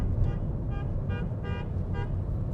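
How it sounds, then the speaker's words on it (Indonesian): A car horn toots several times in short bursts over a steady rumble of traffic. "Apaan sih klakson?"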